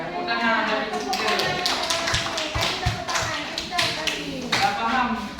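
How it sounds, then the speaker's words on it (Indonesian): Children in a primary madrasah Arabic class clap in quick, uneven bursts of sharp, close taps, with voices murmuring in the room. "Ya, tepuk tangan dari ketiga."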